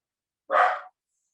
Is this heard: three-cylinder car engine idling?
no